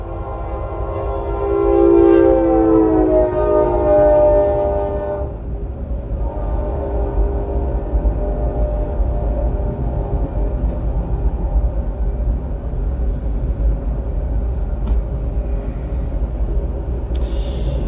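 A train passes, opening with a loud sustained horn blast that fades after a few seconds into a long, steady rumble of rolling rail cars.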